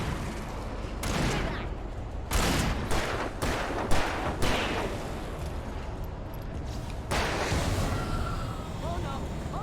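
Bursts of gunfire sound in the video game Alan Wake Remastered during a fight, loud repeated volleys separated by short gaps, with someone talking in between the shots.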